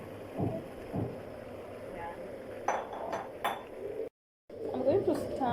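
Cooked githeri, a Kenyan maize and bean dish, being added to a cooking pot, with metal utensils clinking and scraping against the pot in scattered close knocks and a brief gap of silence.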